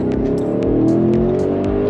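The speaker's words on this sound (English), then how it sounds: "the exhaust note, let me tell you, is incredible" A 2021 Audi SQ8 sport SUV accelerates hard, its engine and exhaust note rising steadily in pitch under load, loud and close from inside the cabin, with faint ticking clicks over the drone.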